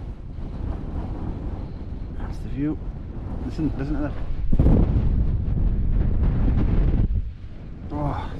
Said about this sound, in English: it's windy as hell out there, like. Wild wind.